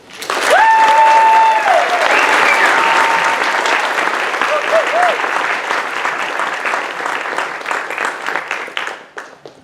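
An audience at a graduation ceremony gives loud, sustained applause to welcome the commencement speaker. The clapping fills the hall and slowly tapers off at the end, with a few voices rising above it.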